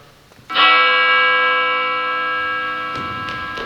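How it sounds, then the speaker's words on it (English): A single church bell strikes once, clear and resonant, its rich ringing tone slowly decaying over several seconds with faint clicks near the end. "Listen! The church bell!"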